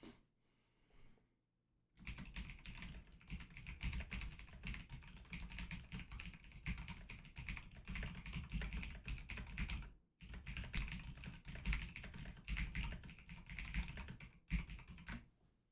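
A computer keyboard with a fault that produces double letters clatters with fast, steady typing for most of the clip. It pauses briefly near the start and again near the end, and there is no talk.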